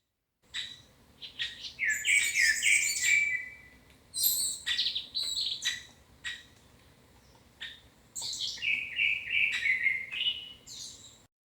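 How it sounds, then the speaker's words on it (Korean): Birds chirp and trill in bright, busy bursts on a forested mountainside in the morning, several calls overlapping and pausing, with a quiet outdoor stillness between phrases. "이 자연의 새소리들을 조금 더 녹음해 보도록 하겠습니다."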